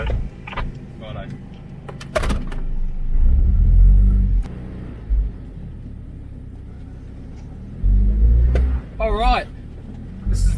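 An 18R-G engined Toyota Hilux rumbles low as it drives off-road on four-wheel drive, its engine swelling and easing with bumps and creaks, while people talk inside over it.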